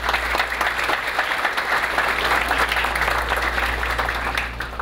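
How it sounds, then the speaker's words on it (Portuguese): An audience at a real estate brokers' association ceremony in Porto Alegre breaks into sustained applause, a dense, even roar of clapping hands that holds steady for several seconds before starting to fade. "Uma salva de palmas, por favor."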